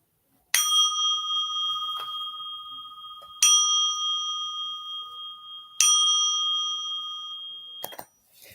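A small bell is struck three times at slow, uneven intervals, each bright ring sustaining and fading before the next, followed by a short clatter at the end.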